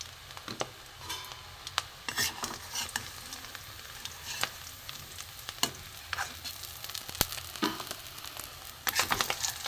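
Fish roe fritters fry in bubbling oil, a continuous close sizzle broken by frequent sharp crackles and pops, with occasional stirring clatter.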